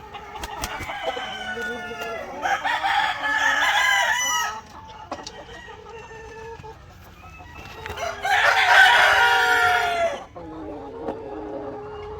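Asil roosters crow loudly in two long bursts, with hens clucking steadily in between, close by in a farmyard setting.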